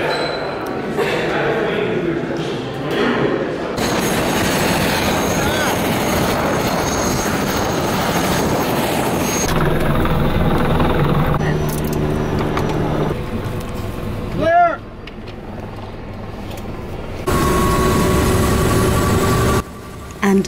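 A helicopter on a Grand Canyon tour flight, with a loud continuous rotor and engine roar filling most of the stretch, interrupted by brief cuts and shifts in level.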